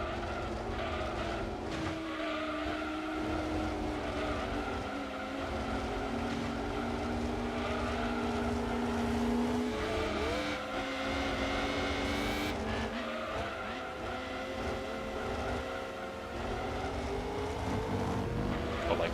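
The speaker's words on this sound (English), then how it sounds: "Why does our GT40 sound like it has cylinder damage?" A Ford GT40 race car engine in Gran Turismo 2 drones steadily at high revs with a rough, uneven tone and shifting pitch, loud and continuous throughout without a break.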